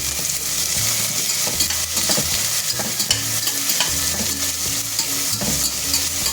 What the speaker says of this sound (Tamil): இந்த 2 ஆனியன் இதில் சேர்த்துப்போம். நல்லா வதங்கணும்.